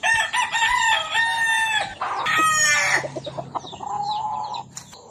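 Chickens and a rooster at a Filipino backyard farm, with harmonic crowing calls and clucking close by, overlapping in bursts over a steady background, no talk.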